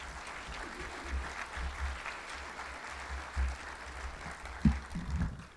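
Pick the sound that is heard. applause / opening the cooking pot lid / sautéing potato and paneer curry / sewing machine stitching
applause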